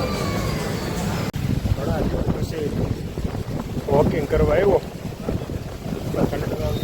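Strong gusting wind buffets the microphone on a road where people are out walking, producing a loud, continuous low rumble with surging swells, while someone talks over it.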